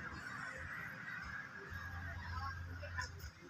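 Backyard poultry at a provincial house, with honking, goose-like calls rising over steady outdoor background noise, fairly close and continuous across the moment.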